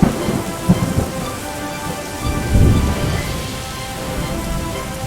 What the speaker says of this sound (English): The rain was still heavy, and the thunder was loud.